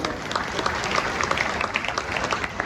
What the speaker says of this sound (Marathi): त्यांच्यासाठी आपण सगळ्यांनी टाळ्या वाजवाव्या